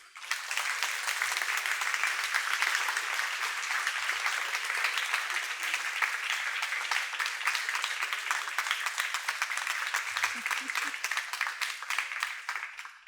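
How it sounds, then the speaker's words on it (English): Sustained applause from a conference audience at the close of a talk, dense steady clapping filling the room for the whole stretch, with a brief voice near the end. "thank you guys for the applause"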